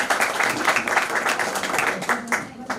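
Applause at a retirement gathering, a burst of hand clapping from a small group with uneven rhythm, fairly close, with some voices mixed in.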